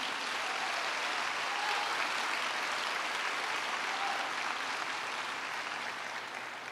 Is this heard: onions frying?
no